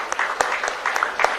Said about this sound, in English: Everybody, a huge round of applause as the e-library has been launched